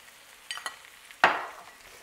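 Seasoning rub being stirred into softened vegetables in a pan for pork chops with mushroom gravy: a couple of light scrapes, then one sharper, louder utensil stroke against the pan that trails off.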